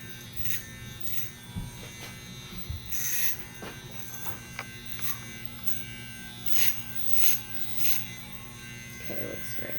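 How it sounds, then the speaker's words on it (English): Electric hair clippers buzzing steadily close by while cutting a boy's hair, their drone rising and dipping as they move through the hair, with soft brushing sounds and a voice talking over it. "we're going to go ahead and start with the clippers"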